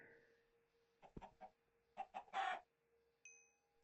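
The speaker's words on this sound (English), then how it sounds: "there are chickens everywhere" Chickens in the Minecraft Hexxit modpack give a few short clucking bursts, clustered and fairly close, then a brief high tone near the end, with no talking.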